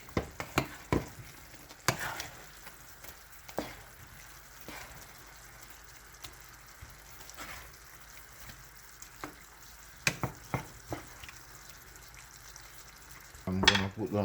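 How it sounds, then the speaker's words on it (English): Jamaican coconut mackerel run down, seasoned with allspice, stirred in a pot: sparse scrapes and clinks of the spoon over a quiet simmer, with a louder clatter near the end. "And now I'm gonna make a stir."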